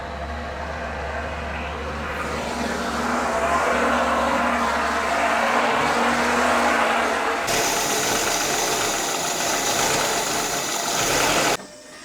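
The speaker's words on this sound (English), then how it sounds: "So the engine has just been running for around 15 minutes." A Lada Niva engine, hot after about fifteen minutes running, idles with a steady, close droning rumble that shifts in tone partway through before cutting off abruptly.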